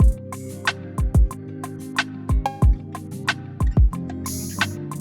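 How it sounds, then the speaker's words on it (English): Programmed R&B drum beat with rapid drawn-in hi-hat rolls, a rim shot in place of the snare and deep booming kicks, looping in a bouncy pocket over sustained synth chords, no voices. "Then a rim for the snare."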